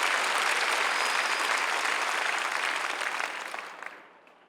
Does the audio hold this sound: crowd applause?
yes